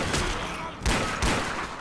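Rapid AK rifle gunfire bursts out in Left 4 Dead 2, loud close shots in quick strings with brief gaps between volleys.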